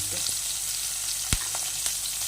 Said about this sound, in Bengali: পেঁয়াজটাতে জল থেকে গেছে যার জন্য ছিটকে ছিটকে উঠলো একটু